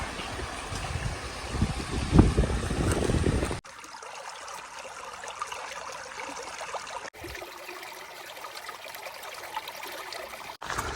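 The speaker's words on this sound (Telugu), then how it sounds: "వాటర్ సౌండ్ అయితే బీభత్సంగా వినిపిస్తుంది" Water rushing at Antharaganga waterfall, a loud broadband roar that drops abruptly to a softer steady flow and trickle after a few seconds, continuing without voices.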